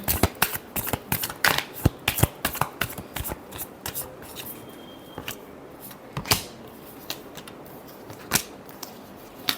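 Tarot cards are shuffled by hand for a last shuffle. Rapid, close, crisp riffling and slapping comes in uneven bursts throughout, with no voices.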